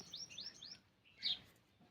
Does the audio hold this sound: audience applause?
no